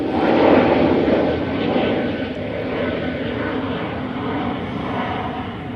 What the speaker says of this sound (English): That was obviously the KLM going back to Amsterdam